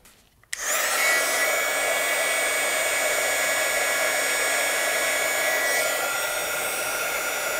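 A heat gun blows with a steady, loud whooshing hiss after switching on, shrinking printable heat shrink tubing labels onto control cabinet wiring, with no talking.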